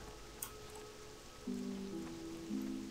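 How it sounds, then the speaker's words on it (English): Steady rain falls over an outdoor zone in World of Warcraft Classic Beta, a constant soft hiss throughout, with tonal game music and effects rising over it in the second half and no talking. "it's almost hard to see out here with all the rain"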